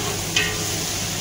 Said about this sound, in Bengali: তারপরে কিছুক্ষণ পর দিয়ে দিলাম পেঁয়াজ কিছু পরিমাণে, হালকা একটু ভাজুন